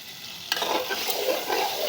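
Pangas fish curry with potatoes and vegetable stalks sautés in a pan, giving a steady close sizzle with a sharp scrape of stirring partway through.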